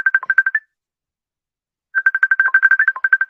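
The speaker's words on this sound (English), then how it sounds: "Is that your phone?" A phone ringtone plays in loud, close bursts of rapid repeated electronic tones, a short burst followed by a pause and then a longer one, with no talking over it.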